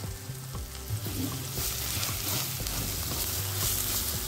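Spices with turmeric fry in hot oil for a potato and gram-flour curry, a steady dense sizzle with no talk.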